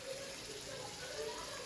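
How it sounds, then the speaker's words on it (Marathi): Boiled chicken stock is poured into a pot of chicken biryani, making a steady, soft gushing pour that runs unbroken for the whole moment. "त्यात आता आपण ते उकडलेल्या चिकनचं पाणी टाकणार आहोत."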